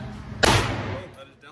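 A single loud gunshot from a Bul Armory SAS II Ultimate Racer pistol firing 9mm major ammunition at a range, a sharp close crack trailing into a long reverberant decay, no talking.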